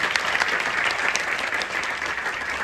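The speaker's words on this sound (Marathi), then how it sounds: "एकदा जोरदार टाळ्या ह्या शिक्षणासाठी व्हायला पाहिजे" A Marathi audience at a stage event gives loud, dense applause with no break. Many hands clap at once to honor education and teachers.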